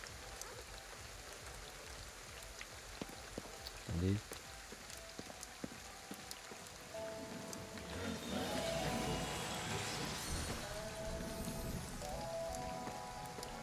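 Rain falls in the video game Ghostwire: Tokyo, a soft steady patter that swells into a denser, louder downpour about halfway through, with a brief spoken word and faint game sounds over it.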